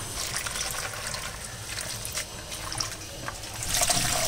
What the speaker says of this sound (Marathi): याच्यात आपण पाणी घेऊ आणि मेथीची भाजी चांगली सोक करू, जेणेकरून तिची पूर्ण माती निघून जाईल।